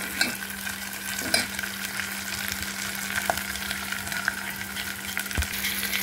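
Onions frying in a pan, an even, dense sizzle running throughout with a low steady hum beneath and a few faint stirring clicks.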